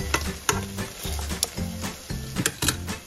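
Shrimp frying in a hot pan, a steady loud sizzle broken by repeated scraping stir strokes and light clacks of the utensil against the pan, close up with no talking.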